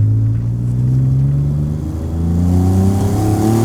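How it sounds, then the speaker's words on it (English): Hyundai Genesis 3.8 V6 with aftermarket mufflers accelerating hard in second gear, a loud, close engine drone whose pitch climbs steadily, dipping briefly at a shift before rising again. "Gets nice and loud. Gets really nice and loud. All it has for exhaust is aftermarket mufflers."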